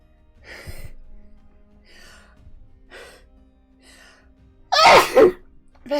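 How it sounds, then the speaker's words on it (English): A person streaming an art lesson on face basics, indoors, breathes in with a few soft, rhythmic inhales before letting out one loud, close sneeze near the end, followed by a brief second burst. "I apologise, I'm probably going to sneeze in a second."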